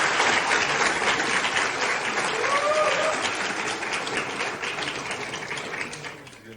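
Applause and cheering break out after the result of the Korean National Assembly speaker election is announced, a dense clapping that stays strong for several seconds and then tapers off as murmuring rises.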